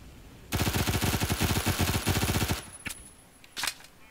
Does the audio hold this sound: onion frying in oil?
no